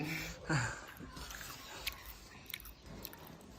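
Close, soft biting and chewing of eaten insect pupae gathered in a Thai forest, with a crunchy bite near the start followed by quieter wet chewing and small clicks at a low level.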